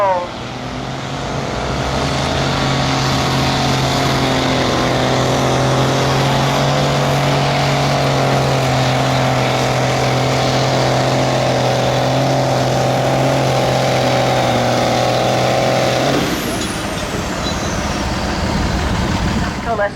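A heavy steam tractor engine drones loudly and steadily under a pulling load at the 2025 Shrewsbury steam rally for about sixteen seconds, then abruptly drops away.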